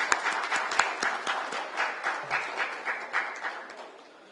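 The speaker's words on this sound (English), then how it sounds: "very big round of applause for them." An audience applauds the organising team at a live event in Delhi, a dense sustained round of clapping with rhythmic pulses that gradually tapers toward the end.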